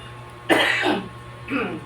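An elderly person coughs once, close and harsh, followed by a softer second cough or throat clear a moment later, in a quiet room.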